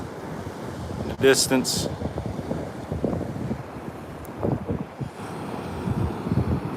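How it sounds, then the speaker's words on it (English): Gusty west wind buffets the microphone on a Ponte Vedra, Florida beach, with surf rolling in underneath and someone talking briefly over the blustery rush. "We got west winds, as you can see."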